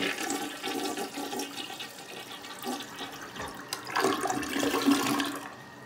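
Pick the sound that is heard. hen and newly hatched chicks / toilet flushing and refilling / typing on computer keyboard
toilet flushing and refilling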